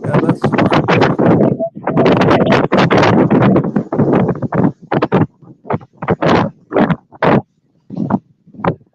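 Gusting wind buffets the microphone outdoors with loud, rough, broadband rumbling bursts, steady at first, then breaking into choppy irregular gusts separated by short lulls.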